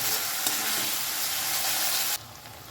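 Spice masala with turmeric sizzling and being stirred in a pan for a Lote fish curry, a dense, close frying hiss that drops off sharply near the end.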